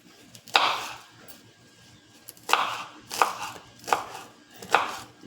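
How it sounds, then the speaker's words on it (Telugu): A knife finely chops leaves on a board in about five crisp, separate strikes, spaced irregularly with quiet gaps between them, close and clear. "ఇప్పుడైతే మనం ఆకులని సన్నగా కట్ చేసేద్దాం"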